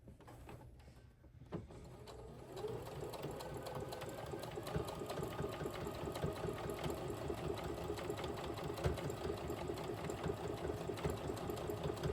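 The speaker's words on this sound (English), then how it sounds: "I'm going to sew right in this area here to give it something to grab onto." Sewing machine stitching a seam on a fancy cover-up garment, a close, steady mechanical whir with a rapid needle chatter that starts softly and then runs continuously at full speed, with no voices.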